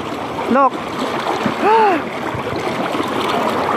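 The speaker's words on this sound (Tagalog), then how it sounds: "Ay, malakas pala ang tubig." Rushing water of a strong provincial river current churns and splashes steadily, with a voice speaking briefly over it and a couple of short tonal calls rising above the flow.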